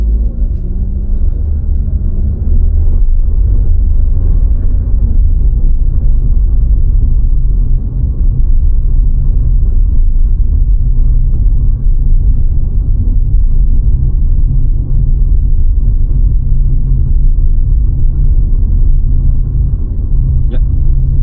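Steady low rumble of road and tyre noise inside a car cabin, heard while driving over a paving-block road at about 35 km/h. The drone stays continuous and fairly loud with no talk over it.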